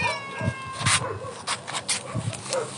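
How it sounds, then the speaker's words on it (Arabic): A dog at a shelter whimpers and yips in short repeated bursts, close and fairly loud, with some rustling and movement between the cries. "طبعا أي شخص حاب يتبنى الكلب هذا تمام"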